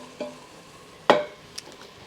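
Onions sautéing in an Instant Pot give a few soft, brief stirring scrapes and faint sizzles, one sharper clatter in the middle, quiet and close with no talking.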